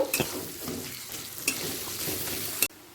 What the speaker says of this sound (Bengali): এরপর কাঁচা লঙ্কা আর পেঁয়াজটাকে দিয়ে হালকা লাল হওয়া পর্যন্ত অপেক্ষা করব